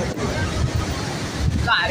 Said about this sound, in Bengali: সরস্বতী নদীর আওয়াজ